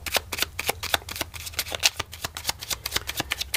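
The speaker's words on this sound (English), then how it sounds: "let's select the actual mystery card. And this is a random card from the Smith Waite Tarot." Smith Waite tarot cards are shuffled and handled up close in a quick, steady run of crisp riffling flicks, with no talk.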